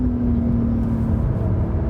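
A 2020 Porsche 911 Carrera S (992) with an 8-speed PDK in Sport Plus mode, its engine giving a steady loud drone with a sustained tone, heard from inside the car with no talking.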